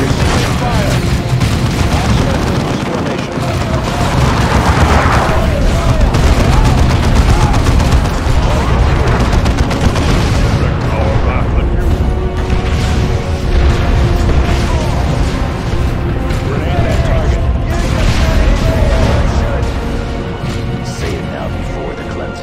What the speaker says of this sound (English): Keep advancing to avoid the artillery.